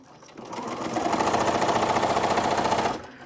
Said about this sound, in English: I am going to go to my straight stitch, and it's already very long.